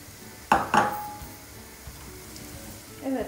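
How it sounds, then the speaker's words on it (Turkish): Onions and peppers sautéed in a pan with water instead of oil, two brief clattering utensil knocks against the pan followed by a faint steady sizzle and another stir near the end. "başka bir tavada soğan ve biberleri çevireceğiz. Ben suyla çeviriyorum artık"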